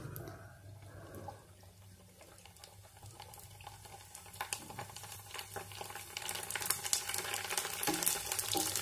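Readymade panipuri (fuchka) frying in hot oil as they puff up, a steady bubbling sizzle with stirring clatter that grows louder and busier toward the end; no talking.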